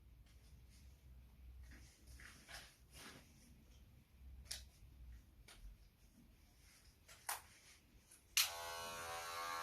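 Electric hair clipper trimming hair, a quiet buzzing hum with scattered light ticks and clicks, then the motor switches on loudly near the end and runs steadily close by.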